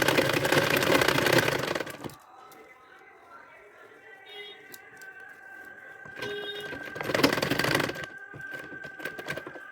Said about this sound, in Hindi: सिलाई।